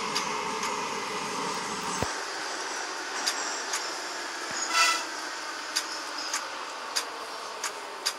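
An 81-717 metro train on the Minsk metro slowing as it arrives at Frunzenskaya station, a steady rolling rumble and hum inside the car with a few sharp clicks and a brief higher squeal partway through.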